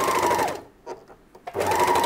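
An overlocker sewing machine stitching fabric runs in a fast, loud whirring burst, stops briefly with a few faint clicks, then starts up again at full speed.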